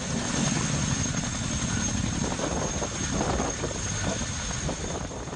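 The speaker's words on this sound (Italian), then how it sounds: "storditi dal rumore dei potenti rotori dei due maxi elicotteri" Powerful rotors of two large US Army helicopters thump steadily overhead near a village, a loud continuous drone with buffeting wind noise throughout and no talking.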